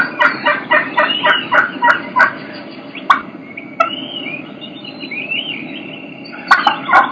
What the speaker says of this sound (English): You can hear two hens doing the exact same vocalization, but you're going to be able to tell that they're two different hens.